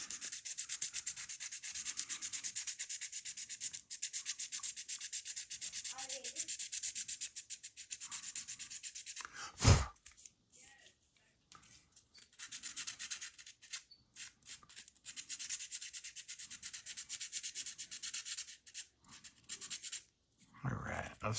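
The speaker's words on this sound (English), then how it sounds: "let's get some more sanding going here" Steady rasping strokes of sandpaper rubbing the body parts of a plastic model car kit, continuous and close, with a brief pause midway before the scrubbing resumes.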